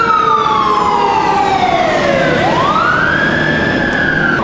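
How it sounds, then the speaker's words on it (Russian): Fire engine siren wailing loud and close on a hot city street, its pitch sweeping down then rising again as the truck passes, over steady traffic noise with no talk. "Пожарные поехали кого-то спасать."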